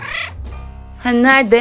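A short meow from a Siamese cat in a cat simulator video game rises near the end, following someone speaking Turkish.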